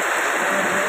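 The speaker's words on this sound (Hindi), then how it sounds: "बारिश हो रही है और लगभग 15 दिन बाद पानी गिरा हुआ है" Heavy rain falling after a long dry spell, a loud, dense, continuous hiss of water that fills the whole moment with no voices over it.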